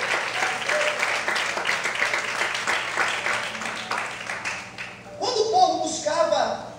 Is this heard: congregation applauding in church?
yes